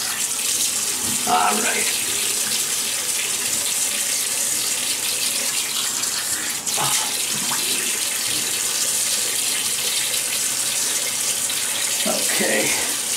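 Tap water runs steadily into a bathroom sink as a man wets his face before a wet shave, a continuous close splashing hiss under a few brief spoken words.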